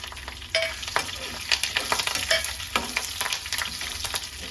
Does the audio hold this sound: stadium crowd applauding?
no